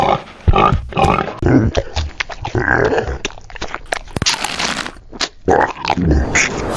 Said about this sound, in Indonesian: Monster kepala babi dari mana ini?